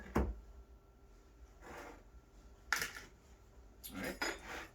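A spoon stirring dry rhubarb upside-down cake ingredients in a bowl, heard as a few soft, intermittent scrapes and clinks against the bowl, quiet and close with gaps between strokes.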